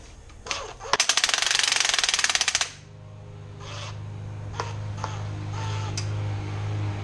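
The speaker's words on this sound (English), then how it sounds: "Got it hooked up to the threaded rod and an impact wrench." An impact wrench turning a threaded rod to lift a transmission gives a loud burst of rapid hammering for about two seconds, then a few short taps over a low motor hum.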